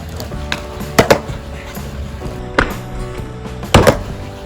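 A skateboard shrimp ollie is done on flat ground: sharp wooden clacks of the board popping and landing come in close pairs, three separate bursts spaced a second or two apart, crisp and near.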